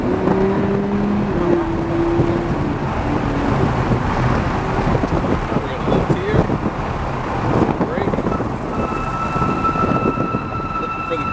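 A race car accelerates down the straightaway on a track ride-along, a loud, steady engine roar mixed with heavy wind buffeting, with people talking throughout.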